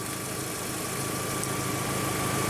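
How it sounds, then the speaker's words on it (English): A Volkswagen Jetta's AC compressor runs with the engine on, giving a steady, even mechanical hum and idle drone that holds constant throughout, close up and without voices. "But the compressor is on and spinning."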